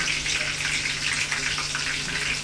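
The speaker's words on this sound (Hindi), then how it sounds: "ग्रीन चिलीज़ को थोड़ा सा अच्छे से रोस्ट करेंगे हम्म" Green chilies roasting in a hot pan for poha, a steady close sizzle and crackle of frying that holds evenly throughout with no talking.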